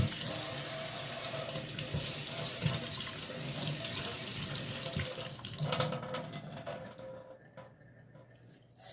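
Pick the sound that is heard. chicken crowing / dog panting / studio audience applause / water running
water running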